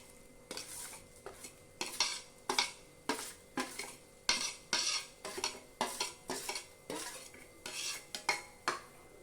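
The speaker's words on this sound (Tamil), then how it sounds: "இப்போ இதை நல்லா கலந்து விட்டுட்டு" A spoon scrapes and stirs roasted wheat semolina in a pot over high flame in quick, repeated strokes, with faint clinks against the metal and no voices.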